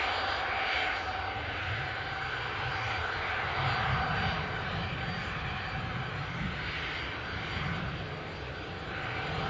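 Jet2 airliner taxiing to line up for takeoff toward Alicante at Newcastle airport, a steady engine roar and whine heard from a distance, sustained throughout.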